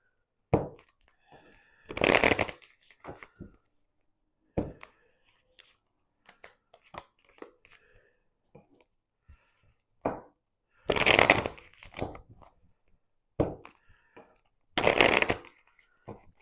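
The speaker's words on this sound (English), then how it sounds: "I still have to shuffle a bit more." Tarot cards are shuffled in several short bursts of riffling and flicking, with quiet gaps and soft handling noises between.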